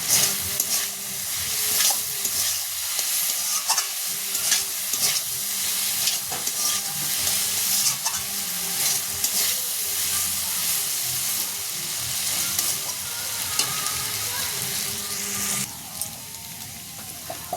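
Taro frying in a pan with turmeric, a sustained close sizzle and hiss with repeated scraping strokes of a spatula stirring the pieces, easing off slightly at the end.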